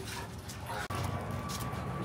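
A dog arriving at a backyard dog party gives short yips and whimpers amid busy background chatter, with people talking throughout.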